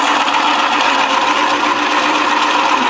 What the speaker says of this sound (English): now you have to do it while the grinder's running when you take it to a finer setting